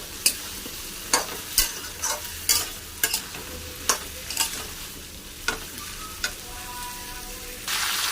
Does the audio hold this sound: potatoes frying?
yes